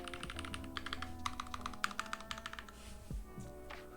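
Keys clatter on a Keychron Q1 keyboard fitted with Poseidon long-pole switches, a quiet burst of quick close typing with a deeper tone over faint background hum.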